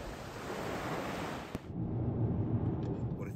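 North Atlantic waves wash onto a beach on the Isle of Lewis in Scotland, making a steady, broad rush of surf mixed with gusty wind noise on the microphone.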